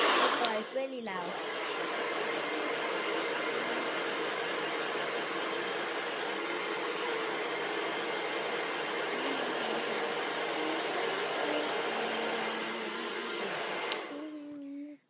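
A hair dryer blows in a steady, loud, close rush for most of the clip, drying hair at home before bed. A brief voice is heard at the start and at the end.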